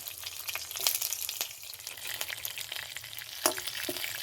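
Chana dal, slit green chillies and ginger fry in hot oil in a pan, a steady close crackle with a few sharper pops and scrapes, no voices.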